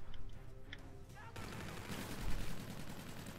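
Call of Duty: Infinite Warfare online match gunfire: a few sharp shots up front, then a dense rattle of automatic fire, fairly quiet and muffled throughout.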